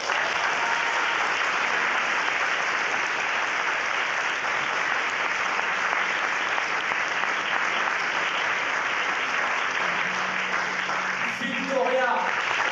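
A large audience at an awards event claps loudly and continuously in a dense, even wash of applause that holds steady from start to finish, with a voice faintly audible near the end.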